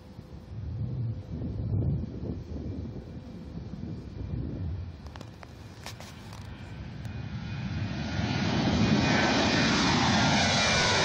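Southwest Airlines jet taking off from runway 30 right, engine roar building steadily from a moderate rumble to a loud, broad sustained rush with some wind buffeting on the microphone.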